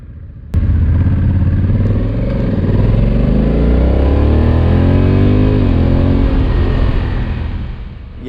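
A Honda Africa Twin DCT motorcycle accelerates hard from a sudden start, its engine note rising and climbing through several gears, loud and close with no talk, easing slightly at the end.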